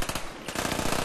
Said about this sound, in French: il passe à l'arme finale, qui est le Mac 11 Akimbo